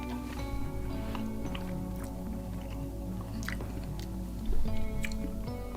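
Close-up chewing of grated 2.5-year-old Pecorino Romano cheese, soft steady mastication with small moist bites over a constant low hum, a slightly louder chew near the end, no talking.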